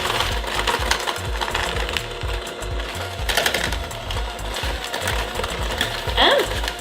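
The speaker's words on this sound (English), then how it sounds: "So I'm gonna cream them together with my mixer." Steady whirring hum of an electric mixer creaming butter and brown sugar in a bowl, loud and continuous with rattling, and a voice talking over it.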